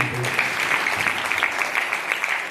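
An audience at a leadership camp in Amritsar bursts into brief applause, a steady, moderately loud patter of many hands clapping together, heard without speech.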